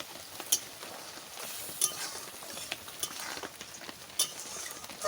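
Palak paneer cooking in a pan as garam masala is added, with a soft steady sizzle broken by a few sharp clinks and light scraping of a utensil against the pan, no voices.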